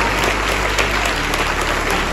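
Students at a school event clap together in a dense, steady burst of applause, loud and sustained throughout the short moment.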